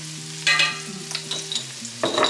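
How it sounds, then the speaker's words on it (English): Minced garlic frying in a pan, a crackling sizzle broken by several bright metallic scrapes and clinks of stirring, close and fairly loud over a low steady hum, with no voices. "we're gonna add our minced garlic, and remember, garlic will burn, so you don't wanna put the garlic in until you're just ready to heat it up and get it fragrant"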